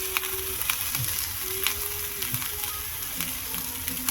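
Chickpeas and onion frying together in a pan for a spicy chickpea masala, a continuous close sizzle with light stirring and occasional soft clicks.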